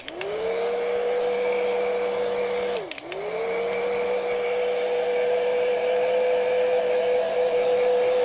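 A steady, loud whirring hand dryer blows on fast-drying paint glaze over painted roses, briefly dipping and clicking off then back on before running continuously again.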